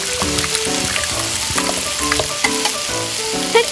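Clams with soy sauce and seasonings stirred in a tiny miniature kitchen pan, a bright steady sizzle cut by rhythmic scraping strokes and small clicks, close and clear, no speech.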